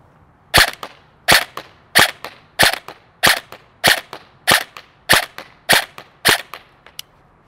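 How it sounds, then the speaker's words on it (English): Krytac Trident MKII PDW-M airsoft gun fired at targets 50 feet away, about a dozen sharp snapping shots at a steady semi-automatic rhythm, close and loud with no talk. "We're gonna do a couple more shots here at 50 feet."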